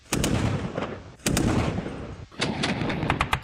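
A KPV 14.5mm heavy machine gun fires three loud, rapid bursts of heavy rounds at a BRDM armored vehicle target outdoors, each burst a booming rattle with brief gaps between.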